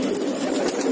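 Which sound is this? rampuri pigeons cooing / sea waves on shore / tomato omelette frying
rampuri pigeons cooing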